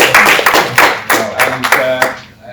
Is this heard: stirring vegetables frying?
no